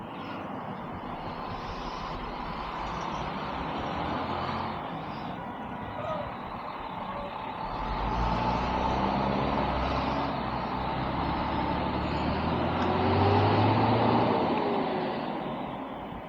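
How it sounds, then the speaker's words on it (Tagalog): Heavy road traffic on a drizzly day, with trucks and buses rumbling past at a steady moderate distance and engine drones swelling and fading, a continuous low roar with no clear speech. "Traffic na din."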